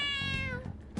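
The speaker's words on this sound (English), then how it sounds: "That cat really likes to meow" A cat in the Persona 5 Scramble video game gives a single drawn-out meow that slides downward in pitch, followed by a short softer chirp near the end, with no talk.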